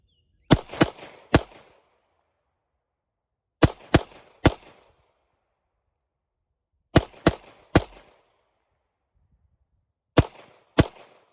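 Pistol fired at a range through a Nitewing SPO320 red dot, sharp loud shots in quick strings of two to three, separated by silent pauses, four groups in all, with short echoing tails.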